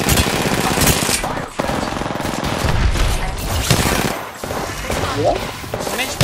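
Gunfire in the video game Apex Legends crackles in rapid automatic bursts with short pauses between them, loud and close, mixed with game effects and faint players' talk.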